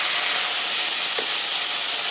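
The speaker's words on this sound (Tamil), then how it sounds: "இது கொஞ்சம் எண்ணெயில் வதங்கட்டும்." Vegetables sautéing in oil for a Tamil banana-flower, green pea and carrot paruppu usili, a steady, even hiss with one brief knock near the middle, close and constant.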